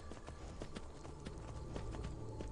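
Hooves of a horse in the video game Skyrim clip-clop in a steady, quick rhythm, faint and close, with no other sound over them.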